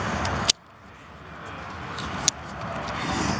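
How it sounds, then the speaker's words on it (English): A 2020 KTM 1290 Super Duke R's electronic fuel cap releases with two sharp mechanical clicks, the first louder, over a steady low hum of background noise. "Even the gas cap opens electronically."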